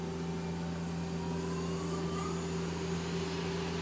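A 2011 Mazak QTN-250II CNC turning center with a 10-inch chuck runs its spindle at 1,000 RPM, producing a steady, unbroken mechanical hum with sustained tonal whine throughout.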